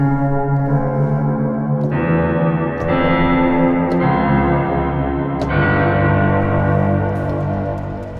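Sustained horror music chords drenched in heavy bus reverb, washing and blurring together with long echoing tails and occasional sharp accented hits.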